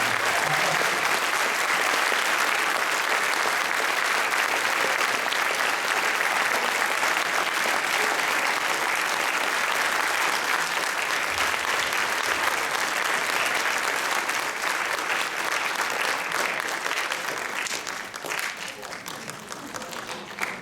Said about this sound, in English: Another round of applause for Lane Elliott.